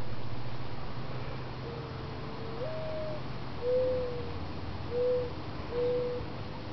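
Four soft, hooting bird calls sound one after another outdoors, spaced a second or so apart over a steady low background hum.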